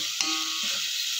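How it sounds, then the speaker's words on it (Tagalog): Pork for ginisang monggo sizzles in a pan, a steady broadband frying hiss close to the ear, with a short clatter at the start. "So, ginigisa ko na po"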